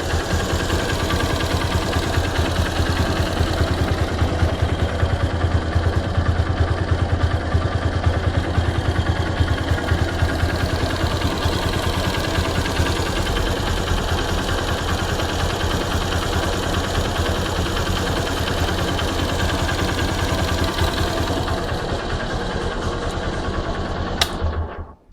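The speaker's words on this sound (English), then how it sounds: "You can hear the engine noise here" A 2012 Hero Hunk motorcycle sits idling after a kick start, its engine putting out a steady, close, even chug for about twenty-four seconds before cutting off abruptly.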